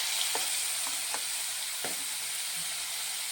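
Cumin seeds and a big spoon of butter sizzling in hot oil in a pan, a soft steady fry hiss with a few light crackles and pops, close and quiet with no talking.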